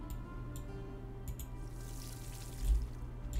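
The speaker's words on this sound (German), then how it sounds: "Warum gieße ich die eigentlich noch?" Crops being watered in the farming video game Pumpkin Days at the end of autumn: a soft, steady pouring and trickling water sound, fairly quiet and continuous, with a few faint ticks and no talking.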